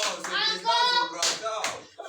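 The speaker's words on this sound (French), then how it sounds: "Très bien, applaudissez pour elle." Classroom applause for a pupil, a few sharp hand claps mixed with children's voices calling out together, close and moderately loud through a short burst.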